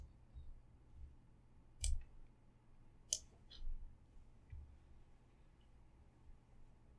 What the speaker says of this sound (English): Now click on Advanced System Settings.